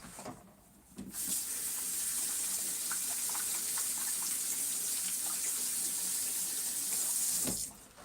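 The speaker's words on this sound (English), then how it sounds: "let me wash the hands" Tap water runs steadily into a sink while hands are washed. It is a loud, continuous hiss starting after a second and lasting about six seconds, then cut off.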